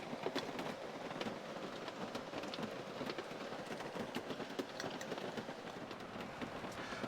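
Steady storm rain pours on and around a teardrop camper during a flood, a dense continuous hiss with scattered louder drops close by, no voices.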